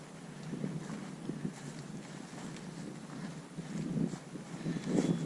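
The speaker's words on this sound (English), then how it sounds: "right now that wind is so bad" Strong wind blowing outdoors during a turkey hunt, buffeting the microphone in low rumbling gusts that swell and fade, louder near the end, with no talk.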